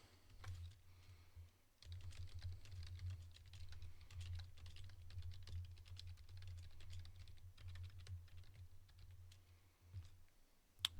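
Fingers type code on a computer keyboard, producing a steady run of quiet, close clicks and key taps with brief pauses, alone without talk.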